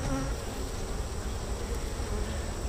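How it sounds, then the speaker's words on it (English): Honey bees buzz steadily at an open hive while a split is made with queen cells, a dense, continuous drone close by with no talk. "Yeah, these bees are doing good."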